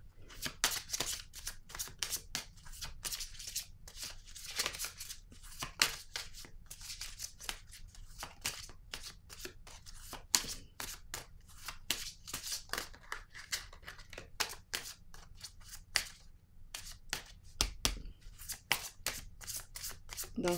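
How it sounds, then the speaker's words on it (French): Tarot cards shuffled by hand in quick riffling bursts, a steady run of crisp flicks and slaps close up that continues throughout, with no talking. "je vais piger une carte"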